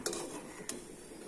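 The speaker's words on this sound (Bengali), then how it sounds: "চামচ দিয়ে একটু নাড়াচাড়া করে দিতে হবে।" A spoon stirs tulsi basil tea in a pot over low heat, two quiet clinks against the metal over a soft, faint background hiss.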